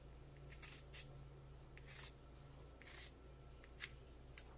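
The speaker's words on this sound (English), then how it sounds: "we're going to take our scissors, and we're going to cut on the line that we drew" Scissors snip through quilting fabric along a drawn line near a sewing machine, a series of short, crisp close cuts in uneven rhythm, about eight snips against a quiet room hum.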